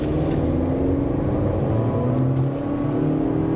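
A 2023 Honda CR-V EX-L with the 1.5-litre turbo engine accelerating hard in sport mode, its engine drone rising steadily in pitch as it gathers speed, loud and continuous from inside the cabin with no talk.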